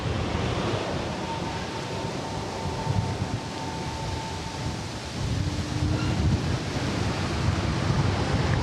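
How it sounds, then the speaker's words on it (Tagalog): Steady roaring wind in Valletta, Malta buffets the microphone in a continuous broad rush, loud and unbroken, with no voices. "Malakas lang yung hangin dito, pero ang ganda ng lugar."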